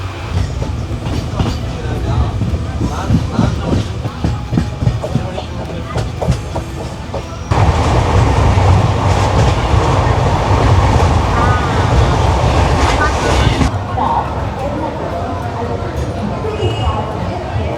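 Marusagar SF Express train rolling on rails heard from inside a carriage, a continuous rumble with rhythmic clicking over joints, growing louder midway, while people talk quietly under the noise.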